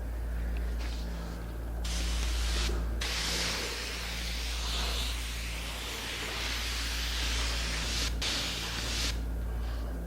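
Spray gun applying finish along the edge of a hanging wooden cupboard, a steady broadband hiss running nearly continuously with a few short breaks where the trigger is released, close and fairly loud over a low hum.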